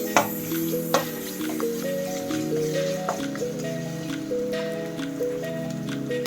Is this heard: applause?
no